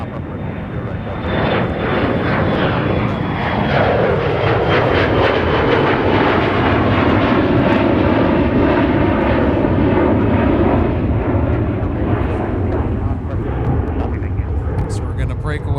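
An Embraer jet departs MSP airport in a sustained, loud engine roar that swells and stays powerful for the whole stretch, with talk heard over it.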